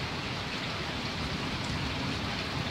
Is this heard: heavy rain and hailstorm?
yes